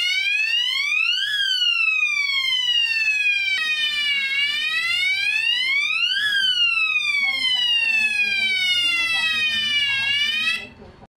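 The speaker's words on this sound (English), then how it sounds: "If the siren is producing sound as expected" A loud electronic alarm siren wired to a Hikvision DVR alarm port wails in rising and falling sweeps, repeating several cycles up close before cutting off near the end.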